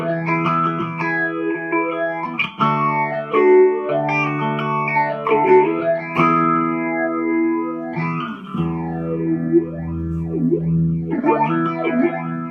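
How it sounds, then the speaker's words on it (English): Distorted electric guitar chords sweep through a swirling 8-stage phaser pedal, the tone whooshing up and down repeatedly as notes ring out with reverb. "It's an 8-stage phaser, so it's got more of like your standard kind of phase sounds"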